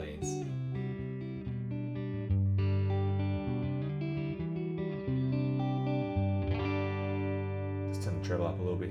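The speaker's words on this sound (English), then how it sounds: "So it's gorgeous Fender cleans." Clean electric guitar tone from a black panel Fender Deluxe Reverb-style rhythm channel in a Neural DSP Tone King amp plugin, playing sustained chords and melodic notes with a warm, shimmering decay.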